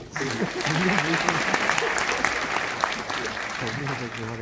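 Audience applauding at a special session of the Jeju Forum for Peace and Prosperity, a dense, sustained clapping from a crowd in a hall, with a voice speaking over it.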